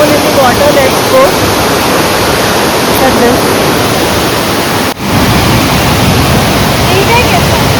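Chonda Waterfalls rush with a loud, steady roar of falling water that fills the whole stretch without pause.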